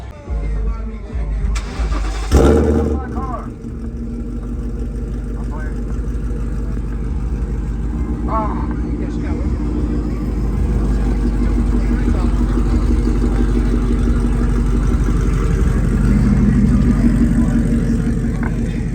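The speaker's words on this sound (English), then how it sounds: "I'm gonna hop in the car now, and then my buddy's gonna get a video of me driving on that road right there." A straight-piped Ford Mustang with a burble tune fires up after a couple of seconds, then settles into a loud, steady, close rumble as it pulls away, with people talking over it.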